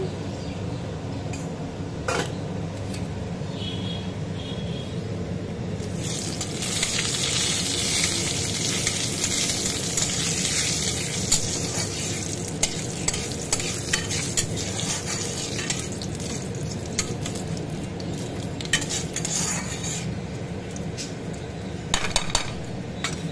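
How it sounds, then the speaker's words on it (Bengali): Bay leaf and nigella seeds fry in hot oil, a constant crackling sizzle that swells partway through, with scattered utensil scrapes and clinks against the pan. "তেজপাতা কালো জিরে আমার ভাজা ভালোভাবেই হয়ে গেছে"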